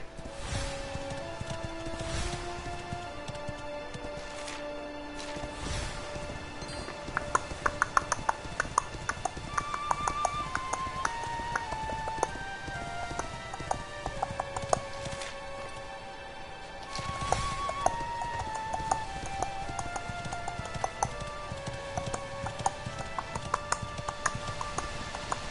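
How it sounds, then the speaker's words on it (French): Horse hooves clip-clop in a steady walking rhythm beneath looping music in Dragon Quest XI, with occasional brighter hits layered on top. "Bon, ça va être le bruit du cheval."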